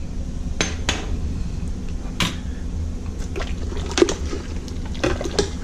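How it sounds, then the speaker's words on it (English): Ginger, galangal, garlic, chili and lime leaf dropped into a pot for tom yum seafood soup, heard as several clattering metallic knocks and scrapes over a steady low kitchen hum, with no talking. "the ginger, the galangal, the garlic, the chili, the lime leaf. Put that in first."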